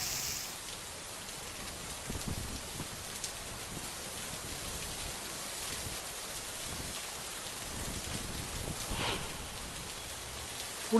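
Heavy monsoon rain falling steadily across Kolhapur, a dense continuous hiss of drops on surfaces with no voices.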